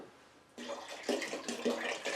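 Water is poured steadily into a mash of sweet corn or yellow dent corn, a continuous close splashing and gurgling that starts abruptly and continues with slight surges.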